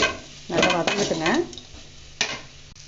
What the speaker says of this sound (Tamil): நல்லா வதங்கிட்டுங்க.